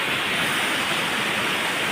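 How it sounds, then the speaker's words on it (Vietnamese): Steady, broadband roar of rushing water from a stream waterfall, continuous and fairly loud with no voices. "Đây là cái thác nhá, cái thác suối luôn."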